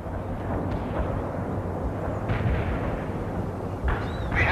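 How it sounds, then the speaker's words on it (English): Artillery and airstrike explosions from the World in Conflict strategy game, a dense continuous rumble of distant blasts with a few sharper bursts rising out of the steady low roar. "The airstrike is on the way."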